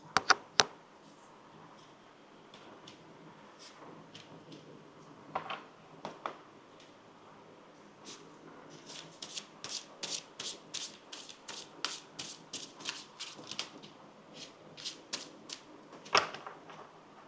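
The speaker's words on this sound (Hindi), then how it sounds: "let's shuffle your card, let's find out few more important details about overall energy" Tarot cards shuffle softly up close in a quiet room, with a few sharp taps at the start and a fast run of riffling flicks in the later half.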